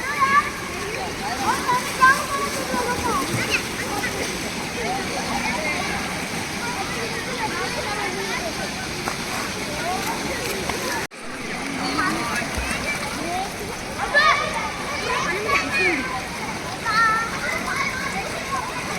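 Water splashes and churns steadily as children swim and practise floating, with bursts of nearby splashing and kids' and adults' voices over the continuous watery wash.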